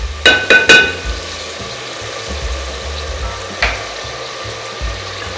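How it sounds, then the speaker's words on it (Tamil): Onions with turmeric sizzle and fry in a pan, a close, steady crackle broken by a few louder clatters and stirring knocks, with no talking over it. "இப்போ வெங்காயம் நல்லா வதங்கிடுச்சு"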